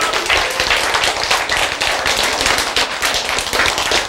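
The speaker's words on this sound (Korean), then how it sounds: "박수." Dense, steady applause from an audience at a talk, many hands clapping loudly and continuously with no voices over it.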